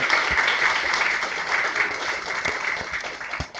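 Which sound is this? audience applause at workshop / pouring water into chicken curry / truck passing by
audience applause at workshop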